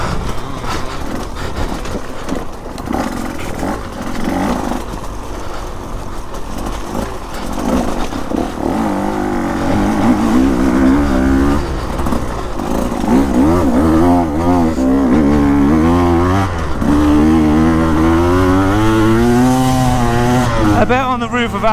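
A 2024 KTM dirt bike engine works hard on an off-road ride across Africa, its loud, steady drone rising and falling through repeated revs, with wind noise and no talk.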